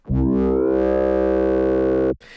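A loud, sustained FM synthesizer tone, a sine wave modulated by a triangle wave, with a rich, buzzy harmonic stack holds for about two seconds, then cuts off abruptly.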